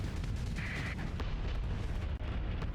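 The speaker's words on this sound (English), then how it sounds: "Oh, missile. Let's block that." Missiles striking during a video game battle: a continuous rumbling, booming blast texture with a short tonal whine partway through and sharp impact cracks, loud and dense throughout, with no voices.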